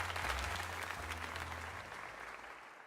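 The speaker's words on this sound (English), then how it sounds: "let us give another heartfelt round of applause to Volika." A round of applause from a seated crowd, dense steady clapping that slowly fades over a few seconds.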